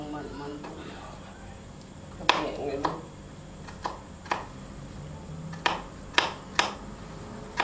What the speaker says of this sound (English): So now she's just dicing it. It's called dicing. Just cutting it into small little squares.